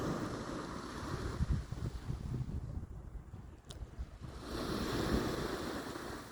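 Ocean waves break on a beach in a continuous rushing wash, swelling and easing, with gusts of wind buffeting the microphone and no talking.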